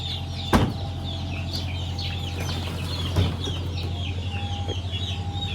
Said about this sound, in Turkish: Bak şu horoz mesela